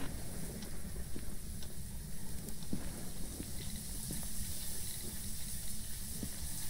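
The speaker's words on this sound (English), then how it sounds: "Shower." Shower water runs steadily in the ghost-hunting video game Phasmophobia, a continuous broad hiss with faint scattered clicks, unchanging throughout and with no talking.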